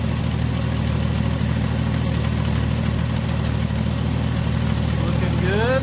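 A Ford Mustang engine idles steadily right after a new fuel pump is fitted, a continuous low rumble filling the whole stretch with no speech over it.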